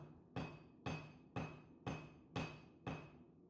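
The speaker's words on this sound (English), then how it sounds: "I'm using the pointed side of my hammer. It's called a straight peen" Six evenly spaced, ringing hammer blows from a straight peen hammer forging a hot railroad spike into a throwing knife on an anvil, each strike sharp and close with a short metallic decay.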